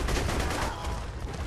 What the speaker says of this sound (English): No, I'm shooting this guy.